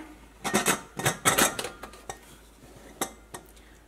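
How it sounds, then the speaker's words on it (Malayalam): A pressure cooker lid being fitted and closed for chicken biryani, a quick cluster of close metallic clanks and scrapes followed by a few sparser clicks, with no voices. "അപ്പം ഞാൻ കുക്കർ അടയ്ക്കട്ടെ"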